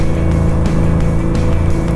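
A car drives on a long trip in cold winter weather, heard as a steady low engine and road drone from inside, loud and unbroken with no talking.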